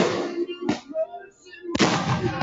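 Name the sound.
fireworks going off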